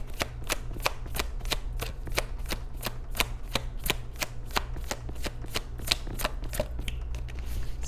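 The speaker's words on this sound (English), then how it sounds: "Let's go ahead and reshuffle." Tarot cards being shuffled, a crisp, regular riffling clatter of evenly spaced card snaps repeating steadily for several seconds, close and alone.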